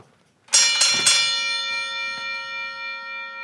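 A loud metallic bell rings out several times in quick succession, then its bright tone lingers and slowly fades.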